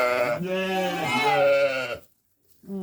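A ram bleats loudly and close by on a rural farmyard, one long wavering call followed by silence and the start of another.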